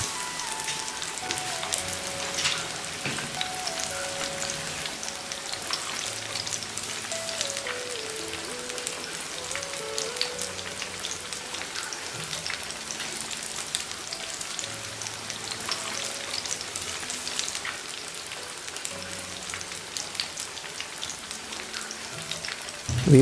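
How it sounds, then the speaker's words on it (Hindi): Rohu fish pieces frying in oil over a medium flame, giving a steady, dense sizzle and crackle that runs unbroken throughout, fairly close and even in loudness, with faint low tones in the background. "हम फिश के पीसेस को गोल्डन ब्राउन और क्रिस्पी होने तक मीडियम फ्लेम पर फ्राई करेंगे"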